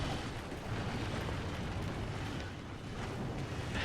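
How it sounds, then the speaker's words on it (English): A propane tank explodes in Call of Duty: Ghosts Extinction mode, a sustained rumbling boom with dense low-end roar filling the whole moment, fairly quiet overall with no talking. "You can pick these up by holding X and blow up aliens by shooting them"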